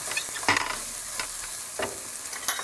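Steady sizzling of meat-pie filling frying in a pan as cayenne pepper is stirred in, with a few louder scraping strokes of the spoon over the constant hiss.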